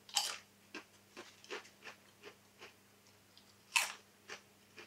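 Cheese and onion potato crisps are bitten and chewed close up, giving a loud first crunch followed by a steady run of softer crunching chews, then another sharp bite in a quiet room.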